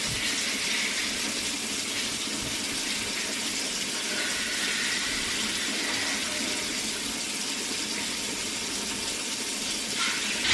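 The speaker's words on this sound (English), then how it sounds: "If you hear water going on in the background, it's because I'm getting the water warm for this" Water runs from a tap while being warmed up, a steady continuous hiss and splash that carries on for the whole stretch at an even moderate level, with no voices over it.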